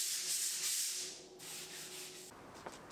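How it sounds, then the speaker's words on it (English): Sandpaper scrapes over dried plaster on a bathroom wall to knock down ridges and high spots, a close, steady rasping rub that eases off partway through. "I can sand away any ridges or high spots"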